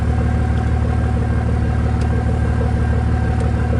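A long CN 383 southbound freight train rolls past at Port Huron, Michigan, giving a loud, steady, unbroken rumble with a low droning hum and no talking.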